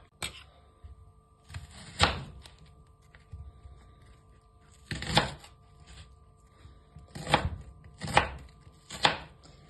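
Chicken, potato, carrot and onion cut into cubes on a board, irregular bursts of knife chops and heavy thuds separated by quieter pauses, close and distinct, with no talk.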